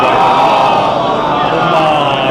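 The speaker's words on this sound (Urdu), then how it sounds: "ایک بار بلند آواز میں نعرے صلوات پڑھیے" A large congregation at a majlis gathering loudly reciting the salawat chant together, a dense, sustained roar of many voices filling the space at full volume throughout.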